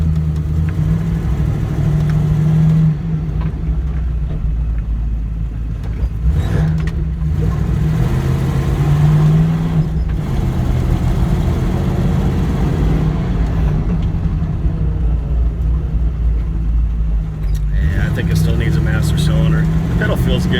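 Jeep Cherokee engine droning steadily while driving, loud and close from inside the cabin, with slight rises in revs and road rumble, and someone talking over it.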